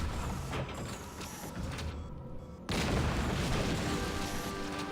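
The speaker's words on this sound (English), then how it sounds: "Artillery barrage to ancient ruins" Artillery cannon barrage striking ancient ruins in the video game Metroid Prime: Federation Force: a dense rumbling mechanical roar that suddenly grows louder partway through and holds as a sustained, booming wash of noise.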